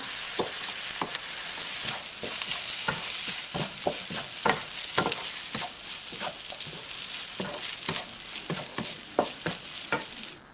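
Fried rice with egg, chicken and potato stir-fried in a wok with oyster sauce, sugar and pepper, giving a steady close sizzle broken by frequent scraping and tossing strokes of the spatula.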